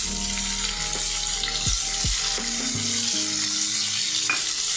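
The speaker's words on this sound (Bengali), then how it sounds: "এখন আমি তাতে দিয়ে দিব এই হলুদ লবণ মেখে রেখেছি ট্যাংরা মাছটা। এই মাছটা আগে ভেজে নিব।" Tengra fish coated in turmeric and salt frying in hot oil, a loud steady hiss and sizzle under a few sliding tonal squeaks and clanks, close up, with no talking.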